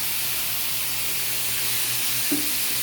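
Tap water running in a kitchen during handwashing while cooking, a steady broad hiss that continues unbroken and fairly close, with a faint brief clink near the end.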